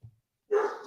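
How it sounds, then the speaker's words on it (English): Dogs at home let out one loud, close bark that carries into a rough, ragged tail after a small yip-like sound at the start. "sorry for my dogs being wild"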